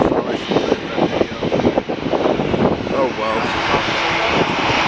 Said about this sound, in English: A330 going to Orlando.